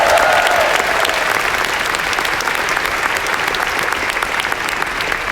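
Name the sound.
audience applause at keynote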